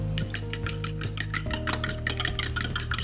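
Eggs, milk and salt whisked together in a small bowl for an egg wash, giving rapid rhythmic clinking strokes of a utensil against the bowl, close and steady throughout, with no talking.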